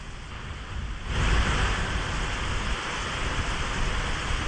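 Heavy rain pours down in Bengaluru onto waterlogged roads, a dense, steady hiss that swells louder after the first second and holds without letup.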